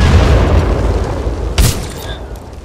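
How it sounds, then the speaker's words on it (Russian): A grenade goes off in Titanfall 2 gameplay: a loud low boom with a sharp burst partway through, set against continuous rumbling game noise and faint voice. "граната!"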